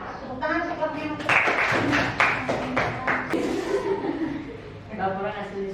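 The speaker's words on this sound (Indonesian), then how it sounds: "Tepuk tangan untuk kelompoknya Mutia." Classroom students clap for a discussion group in a brief burst of uneven, close applause mixed with chuckling and a voice speaking over the top.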